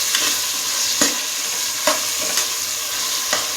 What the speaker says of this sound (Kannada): ಟೊಮೊಟೊ ಹಾಕ್ಕೊಂಡ್ಬಿಡೋಣ. ಇದು ಚೆನ್ನಾಗಿ ಫ್ರೈ ಆಗಬೇಕು ಟೊಮೊಟೊ ಅಂತ.